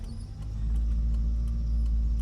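A car engine idles and then settles into a steady low hum as the clutch is slowly let out and the car creeps forward about a metre, with no talking.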